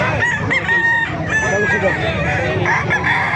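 Roosters crow repeatedly over a busy din of clucking chickens at a chicken market in Calumpit, Bulacan, several calls overlapping at close range in a crowded, noisy space.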